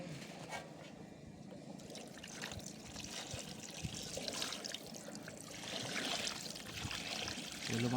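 Water pours steadily into a chicken and egg masala gravy, a continuous trickling, splashing rush that swells slightly toward the end and stays close.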